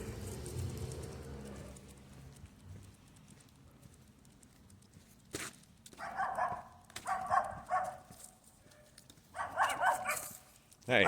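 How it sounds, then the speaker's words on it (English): Little dogs bark outdoors during a short morning stroll near a kennel, several yapping bursts at moderate distance after a quiet stretch with faint footsteps. "we ain't gonna worry about them little dogs"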